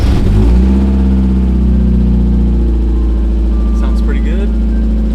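A long-idle Mazda Miata engine catches and runs loudly, settling into a steady idle with a few small revs near the end, close up.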